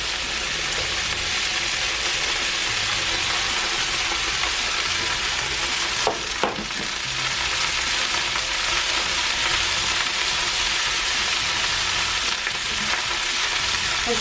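Leftover rice stir-frying with aromatics in a hot pan, a steady close broadband sizzle throughout with a couple of brief scraping clatters of the spatula midway.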